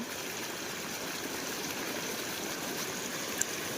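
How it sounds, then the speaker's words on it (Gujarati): Floodwater after days of heavy rain flows without pause in a rural Gujarat area around Jamkandorna, a steady, even rushing like a stream that stays constant throughout, with no voices. "પાંચમો દિવસથી આ પાણી બંધ નથી આજ પાંચ દિવસ થયા છે સતત પાણી નીકળે છે"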